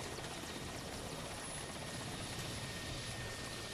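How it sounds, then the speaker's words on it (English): A helicopter heading to a disaster area gives a steady, dense rotor and engine roar that fills the background evenly throughout, with no talk over it. "Please allow me to take the helicopter to the disaster area with you."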